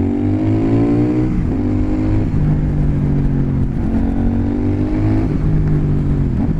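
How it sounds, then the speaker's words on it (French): CF Moto 800NK motorcycle on its stock exhaust, loud and close, engine note rising and falling through repeated revs and gear changes with steady wind rush underneath. "La sonorité de l'échappement d'origine, elle est correcte"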